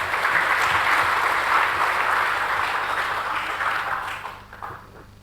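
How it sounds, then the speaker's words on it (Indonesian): Applause from an audience at a business seminar fills the room, a dense steady clatter of many hands that holds loud for several seconds, then thins and fades near the end. "Ya kasih tepuk tangan dulu buat Mas Kiki."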